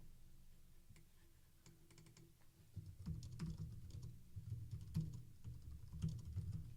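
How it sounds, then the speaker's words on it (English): Light typing on a computer keyboard while writing HTML link text, a steady run of soft, quick key clicks that grows slightly busier partway through, with faint low room hum underneath. "I'm just going to type in something like click here to go to the second links page"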